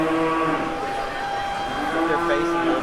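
Cattle lowing in a livestock show ring at a county fair 4-H parade, a sustained tonal moo over steady crowd murmur and voices.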